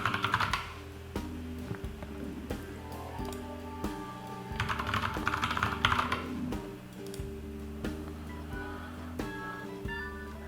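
Someone types on a computer keyboard while setting up a Windows 11 account, a steady run of close, soft key clicks over a continuous background hum, with brief irregular pauses.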